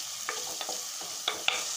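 Chopped tomatoes sauté with onions in a pan, a soft steady sizzle marked by a few light stirring scrapes, close up and with no voices.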